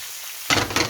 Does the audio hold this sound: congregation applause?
no